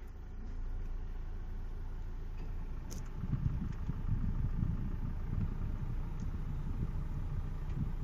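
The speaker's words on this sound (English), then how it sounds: "So there is the overall engine noise in this Tata Harrier without the AC on." A 2019 Tata Harrier SUV engine idles with the AC off, heard from inside as a soft, steady low hum that grows slightly fuller partway through, with no talking.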